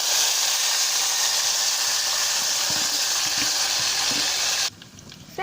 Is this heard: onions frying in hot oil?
yes